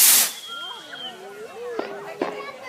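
Fireworks going off, with whistling, wavering tones sweeping across a couple of seconds and two sharp crackling pops near the end, heard at moderate distance.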